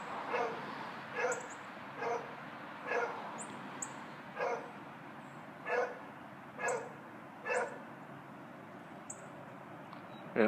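A neglected, stressed dog barks outdoors at a distance, giving a regular series of single barks about a second apart over a steady background hiss.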